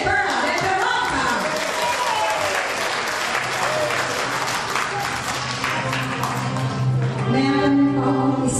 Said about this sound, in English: Ladies and gentlemen, a big round of applause for Miss Perla de Veronca.